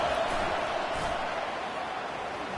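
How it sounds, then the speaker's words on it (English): A football stadium crowd roars steadily during a second-and-goal red zone stand, a dense, continuous wall of cheering noise that holds at full strength throughout without letting up. "This crowd is trying to inspire this defense to make a big red zone stop"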